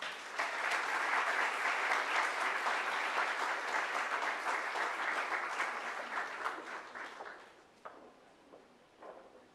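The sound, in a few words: audience applause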